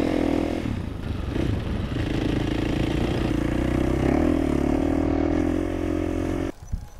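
A motorcycle on a riding track at MotoZone Dubai: a loud, close engine droning steadily with a sustained tone that rises slightly as the throttle rolls on, then drops off sharply near the end.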